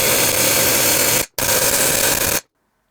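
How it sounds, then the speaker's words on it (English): Loud rapid pneumatic air hammering on a Briggs and Stratton lawn mower engine in two bursts, the first about a second long, a brief gap, then another second before it cuts to silence. "got the bigger air hammer out. Just it was getting slow there. Let's see what this does."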